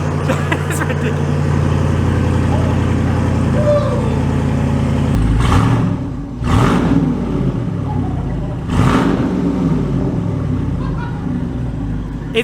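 Jeep Wrangler engine run with no exhaust fitted, rumbling loudly at a steady idle, then punched into several sharp, raw revs that surge and fall back.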